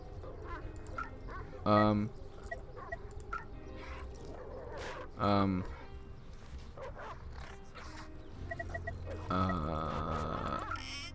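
Dogs in a video game scramble and snarl over tainted meat in a dog bowl, with short loud barking bursts breaking out three times above a steady game backdrop while a person talks throughout.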